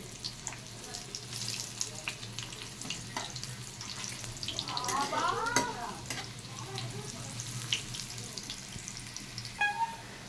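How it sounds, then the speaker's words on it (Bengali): Lentil fritters sprinkled with nigella seeds frying in a wok as they are flipped one at a time, a soft sizzle with scattered scrapes and clinks and a brief swell of bubbling. "বড়াগুলোকে আমি এক এক করে উল্টে দিচ্ছি"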